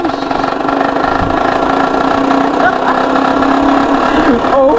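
A continuous, rough engine-like drone from a damaged DIY e-bike, sounding like a dirt bike, churns steadily throughout, loud and close, with a brief rattle and faint voices mixed in.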